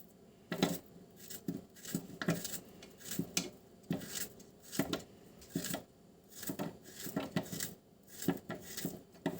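A knife cuts bananas and strawberries for homemade ice cream, tapping a cutting board in a steady, rhythmic run of close, moderately loud chops. Brief pauses fall between some cuts.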